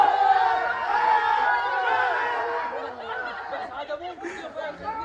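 Crowd of Bahrainis cheering and calling out together, a dense, steady roar of many voices that gradually thins and softens over several seconds.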